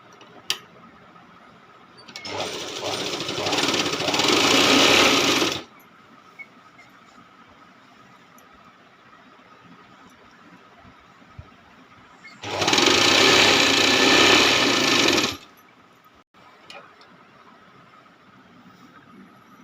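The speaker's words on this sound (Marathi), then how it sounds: "पहिली जिथं शिलाई आली तिच्यावरच शिलाई मारायला आली पाहिजे" Sewing machine stitching a godhadi quilt made from old sarees, two steady runs of about three seconds each separated by quiet pauses, loud and close with no talk.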